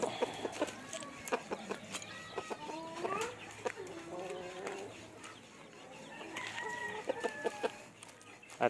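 Free-range chickens cluck and call in a backyard, with overlapping short clucks and rising calls from several birds, moderately close and steady throughout.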